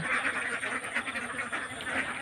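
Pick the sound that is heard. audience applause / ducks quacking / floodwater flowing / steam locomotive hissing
ducks quacking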